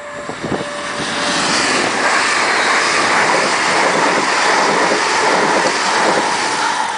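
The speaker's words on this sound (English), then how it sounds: "Another unit coming round the curve, heading for Birmingham New Street." A passenger train unit rounds a curve near Wilson Crossing heading for Birmingham New Street, giving a sustained, loud rushing roar that swells in and holds steady as it passes, with no talking.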